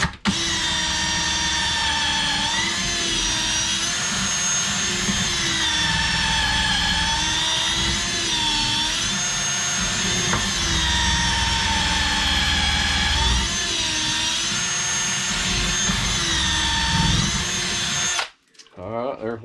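A cordless drill bores a hole while making cooling plates, a loud, sustained whine with shifting pitch as the load changes, running nearly twenty seconds before cutting off abruptly.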